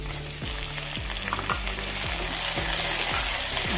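Chopped onions and tomato fry and sizzle steadily in a pan for crab curry, with a continuous hiss and repeated scraping stirs at a regular pace, close and fairly loud, no voices.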